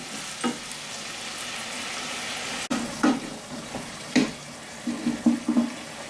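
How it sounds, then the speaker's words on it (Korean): Soft bubbling and sizzling of mapo tofu sauce simmering in a pan with occasional stirring clinks, steady and close, no talking. "이제 자박자박 이렇게 끓여주시면 돼요"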